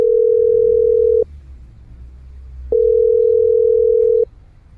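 Telephone ringback tone on an unanswered call, two long steady electronic rings about a second and a half each separated by a silent pause, loud and clear with no voices.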